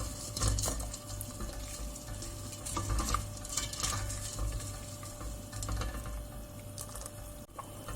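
Sugar melts in a pot for syrup while a utensil stirs and scrapes, giving soft, irregular clinks and swishes over a low simmering hiss at fairly quiet level, without speech.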